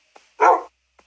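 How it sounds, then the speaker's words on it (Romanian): A single sharp dog bark from a video game, short and close, standing alone with only faint clicks around it. "Câinele meu."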